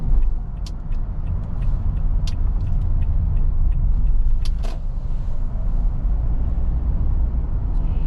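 A car driving slowly through residential neighborhood streets, a steady low engine and road rumble inside the cabin with a few faint clicks and ticks over the top.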